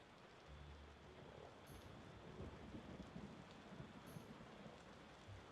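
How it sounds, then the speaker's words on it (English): Steady, dense rain pours down throughout in a tavern keeper simulation game, with low rumbling thunder rolling underneath and occasional brighter bursts. "Seems we're in for a rainy night."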